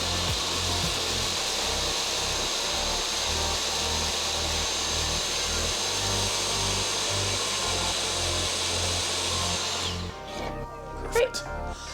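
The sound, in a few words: drilling into drywall to mount a soundbar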